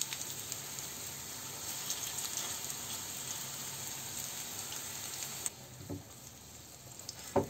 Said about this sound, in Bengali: এবার আমি অল্প তেলে ভেজে নেব।